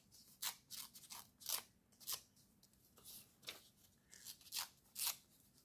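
Paper is torn by hand for a collage, with about a dozen quick ripping strokes coming one after another at close range in a quiet room.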